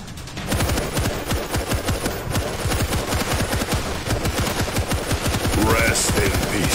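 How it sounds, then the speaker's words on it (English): Sustained rapid machine gun fire in the World War Z video game, a loud, close, continuous stream of rhythmic shots lasting throughout with a dense, clattering battle backdrop. "Machine gun set."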